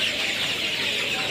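Colour bird chickens on a poultry farm, heard as a dense, continuous chorus of clucking and chirping from a large flock, steady and loud throughout with no talking.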